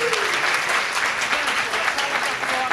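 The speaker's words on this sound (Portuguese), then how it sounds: "E eu peço uma salva de palmas aí aos nossos convidados." Applause for the guests at a volunteering and conservation talk, steady clapping from a modest audience at moderate volume, with a faint voice briefly audible underneath.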